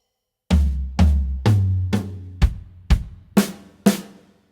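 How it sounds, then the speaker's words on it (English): Drum fill played counterclockwise around the kit starting on the floor tom: eight evenly spaced hits stepping from deep booming toms up to sharper, brighter strikes, close and dry with no voices. "What if we would play our fill counterclockwise?"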